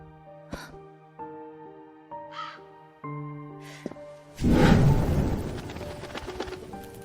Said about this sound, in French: Pourquoi des oiseaux entrent dans cette bibliothèque?